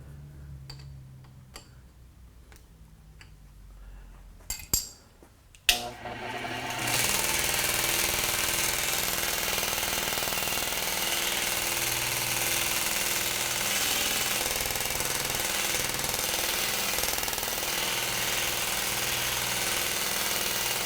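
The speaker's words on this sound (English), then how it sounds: "That's the belt lightly touching the wheel." A machine with its belt lightly rubbing against the wheel while the spindle runs: a few soft ticks and a sharp clunk, then a steady, loud mechanical whir starting early and continuing unbroken to the end.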